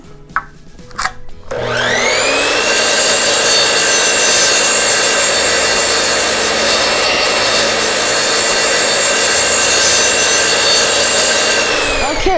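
A power saw cuts wooden 2x4 blocks for an end grain throwing target. A few sharp knocks come first, then the blade spins up into a loud, sustained whining cut lasting about ten seconds before it winds down.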